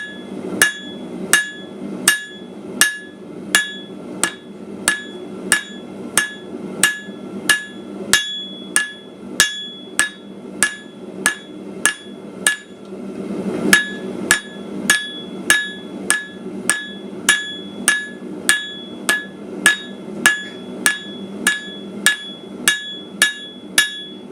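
Steady, evenly spaced blows from a flathead hammer ring on hot metal, flattening it, about two per second, bright and close, with a brief pause midway before the rhythm resumes.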